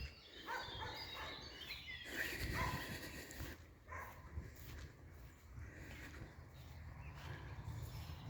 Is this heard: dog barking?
yes